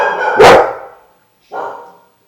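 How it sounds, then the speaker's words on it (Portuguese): Dogs bark close by: one loud sharp bark followed after a short pause by a second, softer bark, with silence between and after. "Pausa para os latidos."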